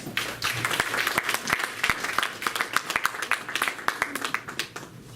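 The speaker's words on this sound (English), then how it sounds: "everyone just give yourselves a round of applause" Forum audience in Kings Park applauds itself, a fairly close bed of many clapping hands with distinct individual claps popping through, sustained across the whole stretch.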